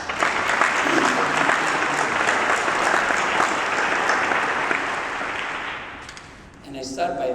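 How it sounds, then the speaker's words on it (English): A breakfast briefing audience gives a leadership team a round of applause, steady full clapping that tapers off near the end, where a voice starts talking. "maybe just give them a round of applause."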